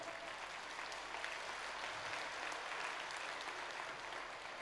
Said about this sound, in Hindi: मातृ शक्ति के सम्मान में जोरदार ताली बजाकर उनका अभिनंदन करें